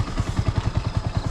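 A motorcycle engine, cold and damp after a monsoon ride near Madikeri, just started and running: a quick, even thumping idle, close and loud, lasting only a moment.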